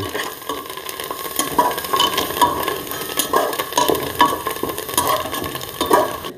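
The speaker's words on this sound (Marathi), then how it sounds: "आणि व्यवस्थित हलवून घेऊया आता" Stuffed brinjal masala with turmeric and coriander is stirred in a pan. Steady frying hiss runs throughout, with a spoon scraping in a continuous rhythm and small clicks in between, close and moderately loud, with no talking.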